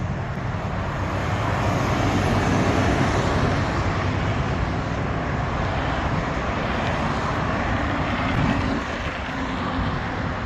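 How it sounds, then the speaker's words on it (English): Steady, heavy rumble of nearby road traffic beside a walking path at Cumberland Gap National Park, with a continuous engine drone and no pauses, loud throughout. "quite a bit of noise from the traffic here"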